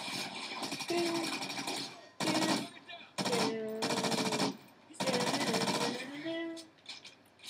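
Bursts of gunfire in the Call of Duty video game, several loud clustered volleys of rapid shots separated by brief pauses, with overlapping game sounds.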